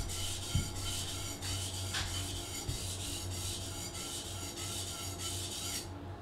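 A knife is sharpened on a budget sharpening stone with a rhythmic rasping rub, steady back-and-forth strokes close and moderately quiet, with no talking.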